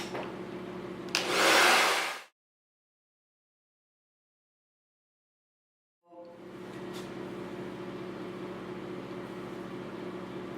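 A hair dryer on high heat, used for styling with a round brush, roars loudly at close range, cuts off into about four seconds of silence, then starts again with a steady blowing hum.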